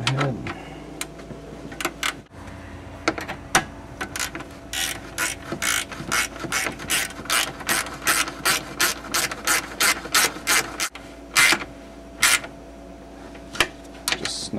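A ratchet snugs up 10 mm bolts while a radiator is installed in a 2001 Dodge Caravan Sport, sending long runs of quick, close metallic clicks in bursts with short pauses between them.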